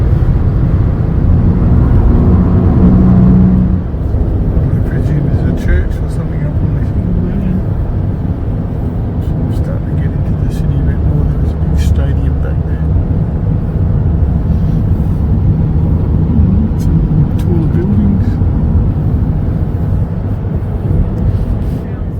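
Continuous low rumble of busy traffic heard from inside a vehicle on the freeway into Auckland, a steady road and engine drone with a slightly louder stretch at the start and faint ticks above it.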